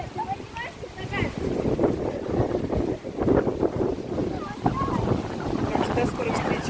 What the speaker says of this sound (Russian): Ой, какой ветер у нас, правда.